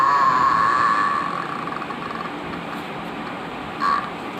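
A voice imitates a crow's caw, giving a drawn-out nasal call at the start and a short second call near the end, with quiet room noise in between.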